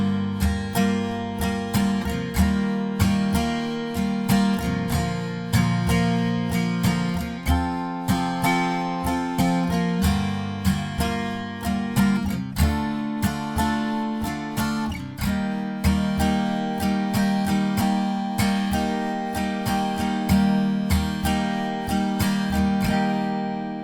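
Acoustic guitar strumming the bridge chords of a song from The Greatest Showman, a steady rhythmic chord pattern played alone and up close with chord changes throughout.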